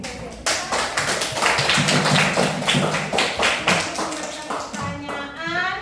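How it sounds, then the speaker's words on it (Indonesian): A classroom group of students claps together for a classmate, a dense run of quick, bright, close claps that keeps going steadily for several seconds, with some voices talking under it. "beri aplaus dulu untuk si Kece"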